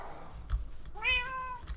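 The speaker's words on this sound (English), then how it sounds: "again, there's a cat doing nothing." A single Minecraft cat gives a short, clear meow, close and moderately loud after a brief soft chirp, over quiet game ambience.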